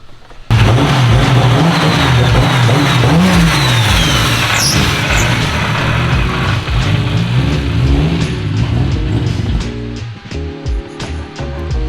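A Nissan R34 Skyline with a turbocharged RB26 engine runs on a dyno, starting up loud and close, revving up and down in wavering swells with turbo whistle, then dropping to an uneven idle near the end.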